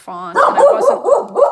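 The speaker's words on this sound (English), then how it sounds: "sorry about my dog" A dog barks repeatedly in a quick, loud series of yelps close by, overlapping a person who is talking.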